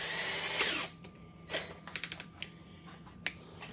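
A Hyper Tough 20V hammer drill with a 1/4 inch bit whirs loudly up close for under a second, then stops, followed by a string of sharp clicks and taps from the tool and bit, with no talking.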